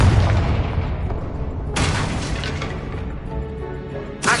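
Confringo blasting spells exploding in Hogwarts Legacy, a dense rumbling boom followed by a second sharp blast midway and another burst at the end, loud and close with no talk.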